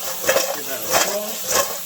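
Salted fries swirled around in a frying pan, giving three soft sizzling, scraping swooshes at an even rhythm, close and moderately loud.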